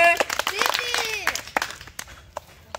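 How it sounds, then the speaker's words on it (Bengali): A group of children and adults clap for a prize winner at a kids' multi-level challenge event, a short burst of scattered, fairly close applause that thins into a few isolated claps, with voices over the start. "তৃপ্তির জন্য হাততালি।"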